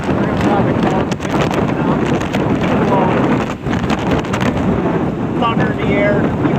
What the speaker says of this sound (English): thunder in the air